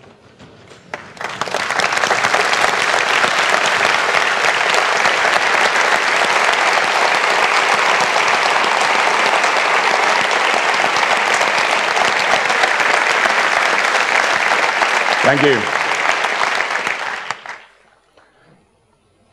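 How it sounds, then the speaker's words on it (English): A standing audience claps in honor of a man named John, a loud, dense and unbroken round of applause lasting about fifteen seconds before fading out, followed by a brief spoken thanks. "So I'd like you all to stand up in honor for John and clap for 15 seconds"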